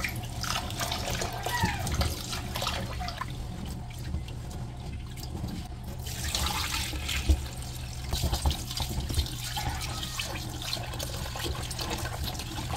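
Water sloshes and swirls as a mix of glutinous rice and ordinary rice is washed by hand for homemade bibingka, a continuous close splashing with small irregular surges and no speech.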